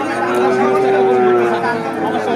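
A sixteen-month-old Friesian heifer calf gives one long, loud, steady moo close by at a busy cattle market, with crowd chatter underneath.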